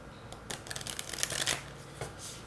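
Tarot cards are shuffled by hand in a quick run of crisp riffling and flicking bursts, close and fairly quiet, with no talking.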